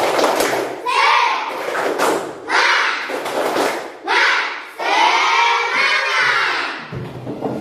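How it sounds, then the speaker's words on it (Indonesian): Classroom of pupils doing a rhythmic spirit clap, loud and close, in several bursts of clapping mixed with children shouting and chanting. "setelah kita tepuk semangat"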